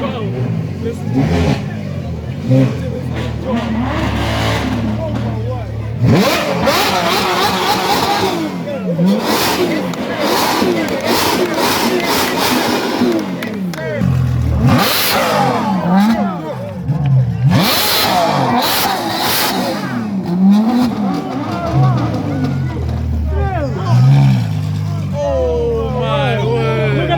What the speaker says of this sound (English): Lamborghini versus 812. Listen to this.